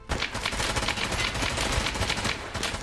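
Rapid automatic gunfire from Escape From Tarkov, a dense, continuous rattle of shots that stays loud and close throughout, with no speech.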